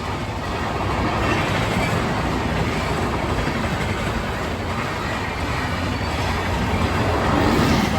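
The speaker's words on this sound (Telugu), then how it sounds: "ఇక ట్రైన్ ఏదో వస్తున్నట్లుంది ఇక్కడ గేట్ అయితే వేశారు చూడండి" A continuous heavy rumble of a train passing a closed railway level crossing, loud and close, with a faint high whine above the roar.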